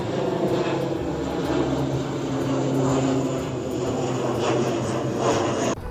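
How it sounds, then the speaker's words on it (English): A Mandarin Airlines ATR 72-600 turboprop flies near a bridge in Taipei, its engines a steady, fairly loud droning roar that holds for the whole stretch without fading. "that was a Mandarin Airlines flight in ATR 72-600, and it's headed for Jingmen"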